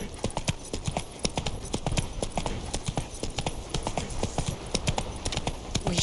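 Roach, the horse in The Witcher 3: Wild Hunt, trots with a brisk, even clip-clop of hooves that repeats clearly and close-up throughout, with a faint voice now and then in the background.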